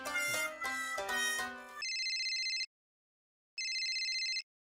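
A telephone rings in short electronic bursts: a few rapid trilling rings, a pause, then another ring, loud and close, with no talking.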